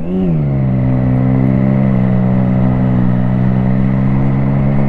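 A Triumph Street Triple 675 motorcycle engine idles and revs up once at the start, its loud, steady exhaust note holding a strong, even drone close by for the rest of the clip with no talking.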